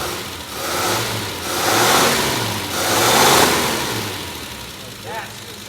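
A 1953 Plymouth flathead six with solid lifters revs up and down in broad, loud swells, its steady mechanical roar rising and falling several times before settling near the end.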